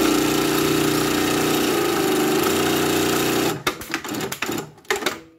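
A PFAFF 2545 ECO Powerline sewing machine winding its bobbin automatically, a loud steady motor whir that runs for about three and a half seconds, then stops and gives way to a few scattered clicks and handling knocks.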